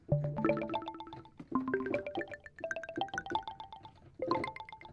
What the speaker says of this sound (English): pinging filters, and that is where you use the filter on a synth as a sound source to create sounds like this